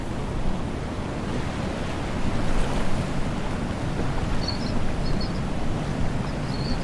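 Waves and wind while sailing a boat in the video game Following Seas make a loud, continuous rush of surf and blowing air. Faint bird-like chirps appear near the end.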